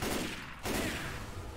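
A loud burst of blasts and rapid gunfire-like booms in the game Left 4 Dead 2, a brief dip, then another heavy rumbling explosion, dense and close.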